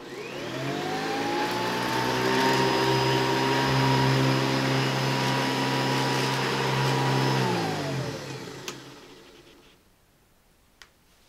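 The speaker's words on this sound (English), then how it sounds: "Let's try the Hoover Convertible." A Hoover Convertible upright vacuum cleaner starts, runs with a loud steady motor whine and hum, then powers down as the whine falls away, recorded close up on a studio microphone.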